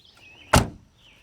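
The door of a BMW Z3 closes with a single solid thump close by, preceded by a faint soft rattle, with quiet before and after.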